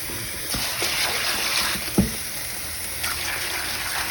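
Warm water gushes and splashes into a pot of black-eyed peas with fatback, a continuous pouring rush punctuated by a few sharp clanks and splatters, close and moderately quiet.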